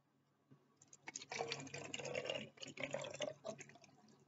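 Vitamin C water is poured into an empty, clean spray bottle, a close, soft splashing trickle that rises after a quiet start and runs for a few seconds.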